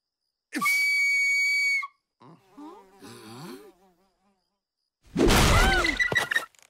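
Cartoon flute whistle, a single sustained high tone followed by chattering cartoon voices and then a loud crashing burst, with animated character sounds throughout.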